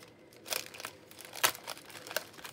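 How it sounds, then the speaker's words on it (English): A plastic bag crinkles and tears up close in several short crackling bursts, uneven and sharp against a quiet background. "but it's breaking a plastic bag"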